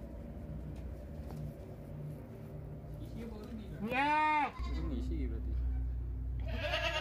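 A sick goat with a skin disease gives one close, loud, wavering bleat partway through while it is gently stroked and massaged, with low rustling and background noise around it.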